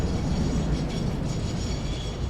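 A train rolling along its rails in the video game Satisfactory, a loud, continuous rumbling roar with no clear breaks and no voices.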